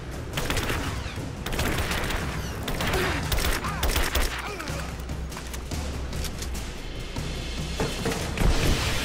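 Dense, continuous gunfire in Rise of the Tomb Raider, rapid shots, bursts and booms layered into a loud, chaotic battle din throughout.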